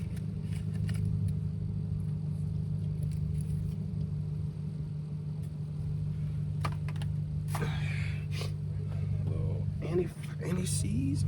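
A Lexus IS250 engine idles with a steady low hum just after a spark plug replacement, while people talk over it and a few brief clicks and knocks sound nearby.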